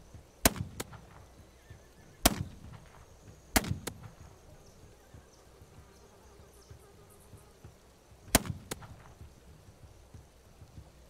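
Rubber bullets fired in the video game This Land Is My Land, four sharp separate shots spaced irregularly across a quiet background, each with a short decaying tail.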